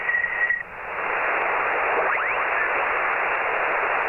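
Steady band-limited static hiss from a Yaesu FT-857D amateur radio during field operation as the dial is tuned, with a brief tone at the start and faint sweeping whistles passing through the constant noise.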